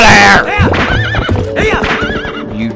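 A horse in The Legend of Zelda: Twilight Princess lets out a loud, close neigh with wavering whinny calls over clip-clopping hooves, plus some other voices mixed in.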